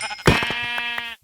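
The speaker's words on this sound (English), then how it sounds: "Found some sheep. Let's kill some sheep here." A single loud, close sheep bleat from the Minecraft video game, a wavering buzzy call lasting about a second before it cuts off to silence.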